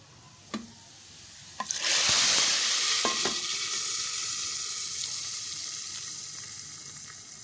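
A hot baghar tempering poured into masoor dal sets off a sudden loud sizzle that keeps hissing and slowly settles, with a few clinks of utensils just before and during the pour.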